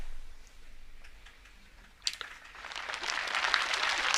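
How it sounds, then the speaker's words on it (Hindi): An audience at a spiritual satsang talk starts clapping after a few faint ticks, the applause swelling from sparse claps into a fuller, louder patter that builds toward the end. "बस तालियां ज्यादा नहीं बजाओ"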